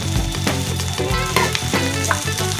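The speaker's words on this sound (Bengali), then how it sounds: "এবার দিয়ে দিচ্ছি সেদ্ধ করে রাখা আলু।" Boiled potatoes sizzle and crackle in a hot pan, a close, steady frying hiss with small bursts of spatter, heard over background music.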